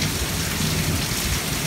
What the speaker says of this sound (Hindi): ये बादल गरजने की आवाज़